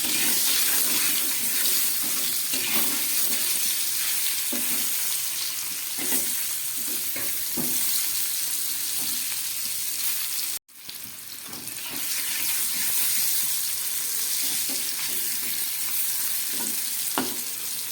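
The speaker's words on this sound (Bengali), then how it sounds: "আলুগুলোকে খুব ভালো করে আমি এবার ভেজে নেবো" Chunks of potato for aloo dum frying in a pan with salt and turmeric, a loud, dense, continuous sizzle with occasional stirring knocks and one brief dropout midway, no voices.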